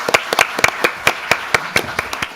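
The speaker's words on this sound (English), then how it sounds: "Let's give him a round of applause." Scattered hand claps ring out, a few sharp, uneven claps from a small group rather than a full crowd, with no voices.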